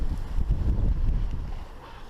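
A sailboat cruising at about 5.6 knots on Lake Erie in a north wind, with steady wind rush, water noise and buffeting on the microphone, and no talking.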